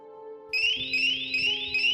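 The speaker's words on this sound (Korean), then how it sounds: "그 도어락 경보벨이 울렸대요" An electronic alarm from a door lock chirps in a fast repeating rising beep pattern, fairly clear and close, sounding over a faint background hum.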